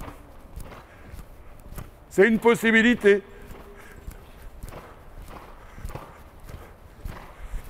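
During a riding training session, a horse's hooves clip-clop at a walk in a soft, regular rhythm, while someone speaks briefly over them.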